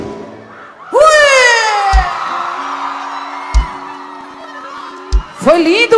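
Crowd cheering, whooping and shouting at a live outdoor vaquejada concert in Serrinha, Bahia, a loud sustained roar with rising yells, punctuated by drum hits, while a singer's voice rises over it.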